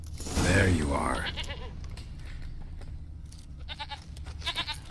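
A goat in The Witcher 3: Wild Hunt bleats loudly and up close, followed by quieter game ambience and a few softer, fainter bleats near the end.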